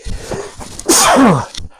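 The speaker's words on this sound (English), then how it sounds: "I'm trying to do this without sneezing." A single loud, close sneeze from a person indoors: a short intake and then a sharp, forceful burst that trails off quickly.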